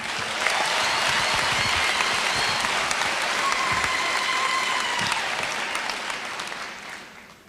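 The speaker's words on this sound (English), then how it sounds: "Let's repeat again a round of applause" At a UNISA ceremony inaugurating Thabo Mbeki as chancellor, a large audience gives sustained, full applause with many hands clapping, loud and even, fading out toward the end.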